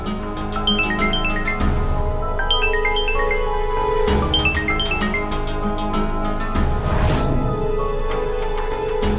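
A phone rings for an incoming call, repeating a bright electronic melody in several phrases over a loud, steady musical background.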